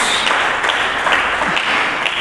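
Worshippers in a church clap for Jesus, a thick, even wash of applause from many hands, loud and unbroken from start to finish.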